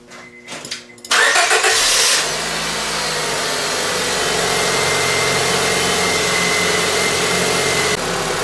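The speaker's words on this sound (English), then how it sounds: "proceed to start the car." A 7th-generation Honda Civic with a D15B engine cranks briefly and catches after a timing belt replacement, then settles into a steady, loud idle that runs on alone with no talk.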